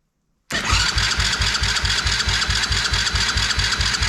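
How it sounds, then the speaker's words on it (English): Tao Tao 125cc ATV engine cranking over without firing, a steady fast rhythmic churning of starter and pistons that begins abruptly after a brief silence and carries on loud and close. "it's turning over pretty quick, like it's got plenty of power now, guys, but"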